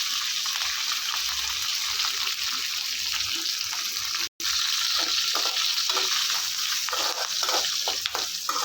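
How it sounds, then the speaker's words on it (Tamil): Chopped garlic fries in hot oil for tomato rice with a constant close-up sizzling hiss and faint stirring clicks, broken by a brief silence midway. "இப்போ பூண்டு வதங்கிச்சு"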